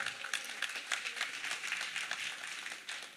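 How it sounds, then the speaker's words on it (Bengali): A crowd applauding at a felicitation ceremony as a ceremonial scarf is presented, a dense, quiet patter of many hands clapping steadily for a few seconds. "জোরে হাততালি।"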